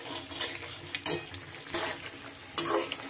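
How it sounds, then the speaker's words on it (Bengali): Paneer murki stirred in thickening sugar syrup, with soft bubbling and wet scraping and a few sharp clinks of a spoon against the pan, close up. "বাকি চিনিটুকু দিয়ে এইভাবে নাড়াবো"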